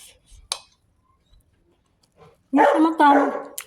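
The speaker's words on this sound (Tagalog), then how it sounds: "Ang ingay ng aso namin." A couple of faint distant barks, then a dog barks loudly twice up close, sounding strained and drawn out.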